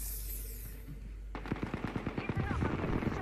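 Sustained automatic gunfire in an Apex Legends match: after a quiet moment, a loud, evenly spaced string of about a dozen rapid shots rattles on steadily to the end.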